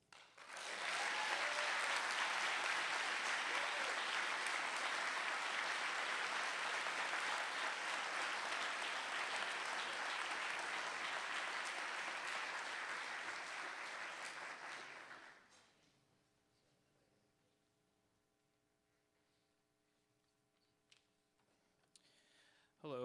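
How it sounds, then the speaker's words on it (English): Audience applause for the Faculty Member of the Year award at a university pharmacy awards ceremony, a loud sustained crowd of clapping lasting about fifteen seconds, then fading abruptly into near silence with a faint low hum. "Please, everyone, give a round of applause for the Faculty Member of the Year,"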